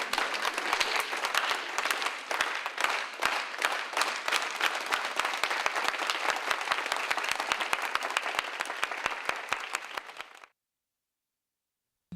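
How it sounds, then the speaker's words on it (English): Parents perform a unity clap together, a rapid, dense run of crowd clapping at a steady fast rhythm that holds for about ten seconds and then stops abruptly into silence. "So we are going to do el aplauso de unidad, the unity clap, all right?"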